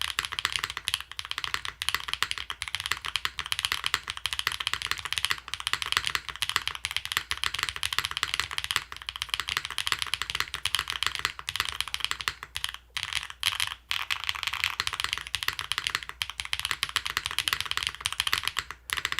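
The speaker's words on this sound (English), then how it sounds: "Let's type, shall we, guys? So this is HMX hydras. I have re-lubed these" Steady typing on a mechanical keyboard fitted with re-lubed HMX Hydra switches and foam inside the board, a dense run of soft close clacks with occasional heavier spacebar thumps, continuous for the whole stretch.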